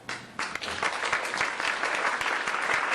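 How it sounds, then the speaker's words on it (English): An audience at a child sex abuse conference breaks into applause for a group of kids, dense clapping swelling quickly after a quiet start and holding steady and fairly loud. "let's have a big round of applause for these kids"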